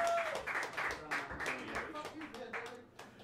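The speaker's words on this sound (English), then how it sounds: "Bring them together with a warm round of applause" A small jazz club audience claps for a live quartet, with scattered, moderately loud applause mixed with talk and fading toward the end.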